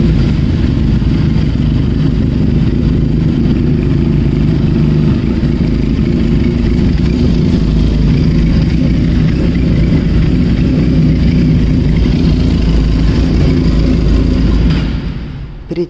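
A Benelli Leoncino 500 motorcycle engine runs at a steady idle close by, a constant low throbbing drone with light mechanical clatter that holds evenly before cutting off near the end.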